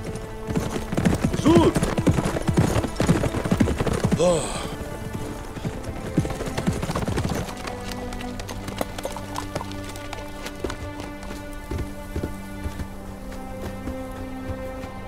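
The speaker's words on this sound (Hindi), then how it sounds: "आपके घोड़े भाग नहीं रहे थे, वो उड़ रहे थे।" Horses' hooves clatter in a quick, loud clip-clop over the first half, with a whinny mixed in, then the hoofbeats fade and a steadier background carries on to the end.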